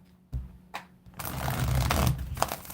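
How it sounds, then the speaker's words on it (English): A deck of tarot cards is shuffled by hand: a few soft taps and riffles, then a longer stretch of dense papery shuffling and a final snap, close and clear with no talking. "Right after these shuffles."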